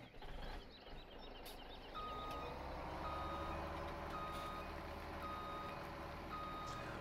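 Semi-truck in the Farming Simulator 17 game starting up: a low engine rumble settles into a steady idle, and a reversing beeper repeats at an even pace over it while faint bird chirps sound in the background.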